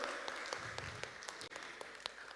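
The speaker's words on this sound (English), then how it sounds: "Give her an applause for our outstanding youth." Applause for an outstanding youth at an international conference and assembly, a faint, steady patter of clapping from a distant audience lasting a couple of seconds.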